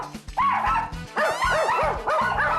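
Several pet dogs bark excitedly indoors in a chaotic household, loud close yips and bow-wows repeating in quick bursts with some whimpering tones, no talk over them.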